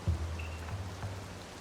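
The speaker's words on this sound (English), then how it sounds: "Kinda wish it wasn't raining." Steady rain falls across the village of Kakariko in The Legend of Zelda: Tears of the Kingdom, a soft continuous patter under a low hum, with a faint brief chime drifting through.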